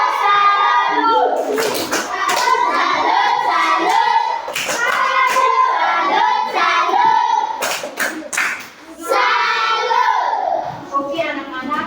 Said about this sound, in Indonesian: Tepuk tangan untuk Monica.